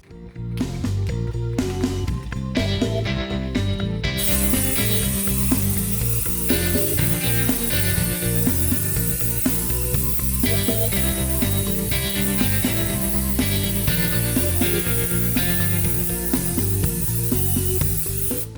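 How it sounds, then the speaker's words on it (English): Steady hiss of an aerosol spray can of Zinsser Bulls Eye 123 Plus primer sprayed over stains, continuous and close, running almost unbroken for the whole stretch with small pauses between bursts. "So let's go ahead and spray the stains."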